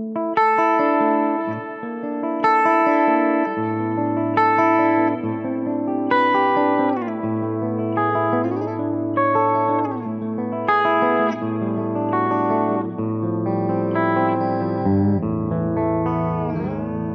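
A PRS electric guitar plays chords and melodic lines through effects, with echo, chorus and reverb, sustained and loud throughout, no voices.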